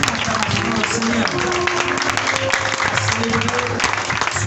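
A church congregation applauds and acclaims during a sermon, with sustained clapping over a steady background of voices and a low instrumental drone.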